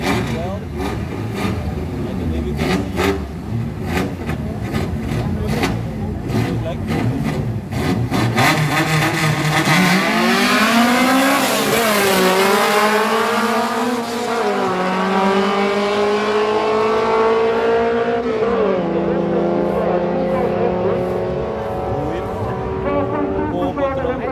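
A drag race car engine roars and revs hard at a drag strip, its pitch climbing steadily as it accelerates, loud and close, with voices talking over it throughout.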